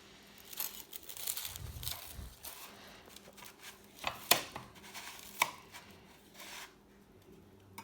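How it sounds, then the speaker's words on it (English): A knife slices through a patty melt sandwich on a diagonal, giving several crisp crunching cuts through toasted bread with sharper snaps near the end, close and fairly quiet. "Turn my sandwich, and we're going to cut it on a diagonal."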